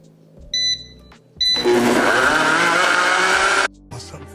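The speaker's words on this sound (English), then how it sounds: "I'm gonna move this on the blender and then we'll blend it up" A blender whirs loudly for about two seconds as it purées a fruit smoothie, its motor steady and close, set between short clicks and electronic beeps and over faint background music.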